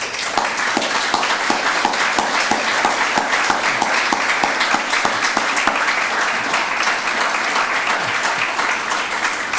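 An event audience at an honor ceremony applauds in a sustained, loud round, many hands clapping with crisp individual claps standing out over the steady wash.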